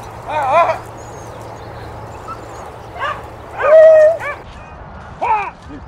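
Excited beagle hunting dogs bark and yip in short bursts during a rabbit hunt, with a few whimpering yelps, while people talk and shout nearby outdoors.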